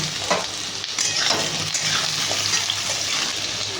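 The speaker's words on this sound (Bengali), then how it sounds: "আলুটা ভাজা আগে হয়ে যাক" Potato pieces fry in a pan for a vegetarian soybean curry, giving a steady, close hiss and sizzle with faint stirring scrapes throughout and no talking.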